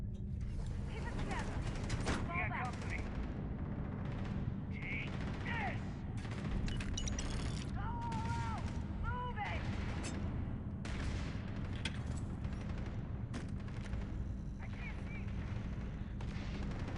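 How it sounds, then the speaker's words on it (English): Gunfire in a Starfield firefight around a mess hall, a steady run of sharp shots and mechanical clanks over a constant low hum, mid-distance and fairly busy throughout. "I love that all this shooting is going on"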